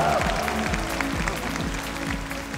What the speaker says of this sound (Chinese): 让我们用最热烈的掌声恭喜我们本次 WCS 中国站的毒奶之王